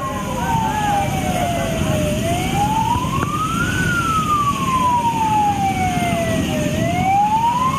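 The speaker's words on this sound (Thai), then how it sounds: "มาแล้วครับรถเพลิงมาแล้ว" A fire truck siren wails, sweeping slowly up and down, steady and loud, over a dense rumble of traffic and background noise as the truck arrives.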